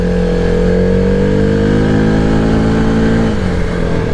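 A 2023 Arctic Cat Mudpro 600 ATV engine revs hard at close range, holding a high droning pitch before easing off slightly near the end, loud and steady.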